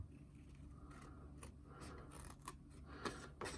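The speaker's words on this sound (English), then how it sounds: "with your paper snips, you're just going to want to cut this down" Paper snips cut through craft paper for a stamped card, several short crisp snips and scrapes close up in a quiet room, growing a little louder toward the end.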